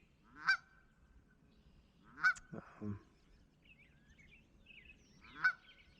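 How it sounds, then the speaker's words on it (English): A goose honks three times outdoors, loud and fairly close, with long pauses between calls and a brief low thump or rustle after the second honk; faint distant chirping sits in the background. "I don't know if that goose is angry at me. It's awful vocal."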